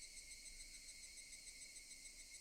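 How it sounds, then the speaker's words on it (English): A steady chorus of cicadas chirping in the Higurashi When They Cry game, a dense unbroken high-pitched buzz at a constant, soft level with no voices. "Sounds like cicadas, at least."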